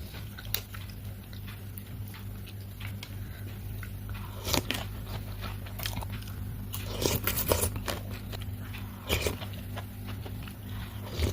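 Crunchy chips being eaten during an Indonesian diet mukbang, scattered close crunching bites over a steady low hum, without talk.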